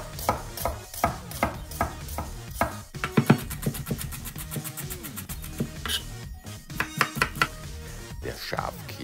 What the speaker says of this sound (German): Ich beginne mit dem Zwiebelschneiden. Diesen schneide ich in feine Würfeln.